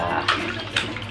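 Water poured over a baby at bath time, two short splashing gushes a half second apart over a steady wet background, close and fairly loud.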